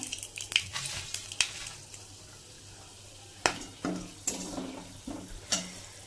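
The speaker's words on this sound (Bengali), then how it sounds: "তেলের মধ্যে গোটা গরম মশলাটা দিয়ে দিলাম।" Whole garam masala spices drop into hot oil, giving a low sizzle broken by sharp spattering pops and the clack of a spoon stirring in the pan at irregular moments.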